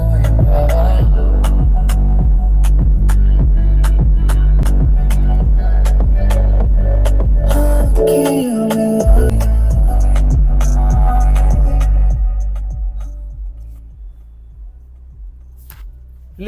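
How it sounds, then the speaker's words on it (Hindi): Bass-heavy music pumps from the factory speakers inside a 2025 Hyundai Verna cabin, a deep, throbbing low end with a steady beat filling the car, loud and close before fading lower near the end. "बेस को आप लोग सुनिए, बेस कितना बेहतरीन निकल के आ"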